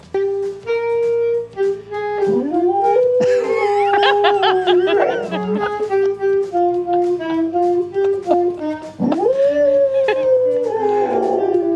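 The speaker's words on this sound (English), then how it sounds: "His daughter Mackenzie plays the saxophone, and when she practices, their dog Vader, well, he likes to play along" A dog howls along with a saxophone being practised at home, long wavering howls blending with sustained sax notes throughout, loud and close, with laughter breaking in partway.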